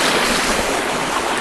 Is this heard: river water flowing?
yes